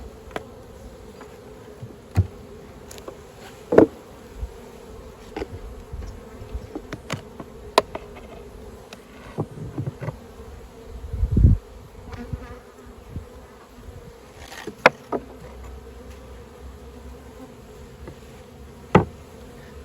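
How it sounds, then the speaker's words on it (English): Honey bees buzz around an opened beehive holding a small nucleus colony, a steady low drone with individual bees zipping close past the microphone, plus occasional knocks and taps of the hive frames. "Not near as many bees in this one."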